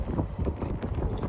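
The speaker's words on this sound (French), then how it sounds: "J'ai le vent dans la gueule et le sable qui me fouette" Gusty wind on a beach buffets the microphone with a steady low rumble, carrying blown sand, close and fairly loud throughout with no other clear sounds.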